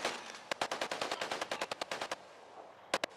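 Rapid automatic gunfire in the video game Predator: Hunting Grounds, a fast string of sharp shots for about two seconds, then a brief pause and a final quick double burst, loud and close with no talking.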